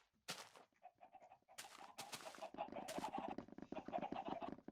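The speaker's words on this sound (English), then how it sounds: "all the chickens are making the noise" Many Minecraft chickens cluck and squawk over each other in a busy, overlapping video game chorus, with some sharp bursts of noise.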